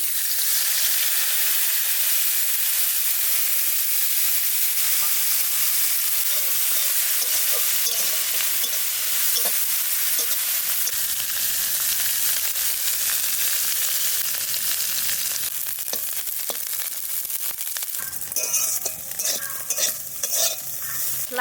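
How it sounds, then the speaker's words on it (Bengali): Dried kachki fish frying in mustard oil with steady close sizzling and crackle, stirred now and then, with clattering spatula strokes growing busier near the end. "লাল লাল করে ভেজে নিয়েছি,"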